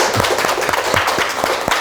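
A small audience at a study group gathering in Sancheong claps together at the opening of a lecture, with steady, close, moderately loud applause throughout.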